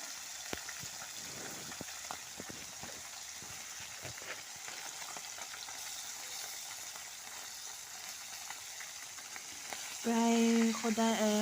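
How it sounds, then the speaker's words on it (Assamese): Small puthi fish fry in a pan with a continuous, close crackling sizzle and scattered pops. A voice speaks briefly at the end. "এইটো মই মাছ ফ্ৰাই কৰি আছো"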